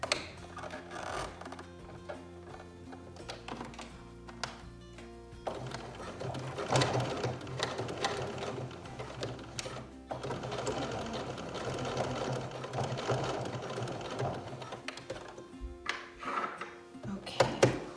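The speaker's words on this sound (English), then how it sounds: "I still have the zipper foot attached, and I'm using the straight stitch with the standard stitch length." A sewing machine running a straight stitch with a zipper foot attached, its motor whirring in stop-and-start bursts with small ticks and clicks between runs, close by and moderately quiet.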